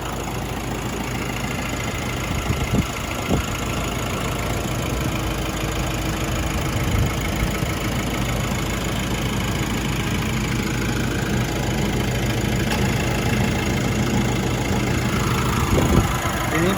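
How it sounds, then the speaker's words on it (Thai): A 2016 Nissan Navara NP300 pickup with a 2.5-litre turbo diesel engine idling steadily, a constant low rumbling drone with slight knocking, heard close up and unchanging for the whole stretch. "เครื่องยนต์"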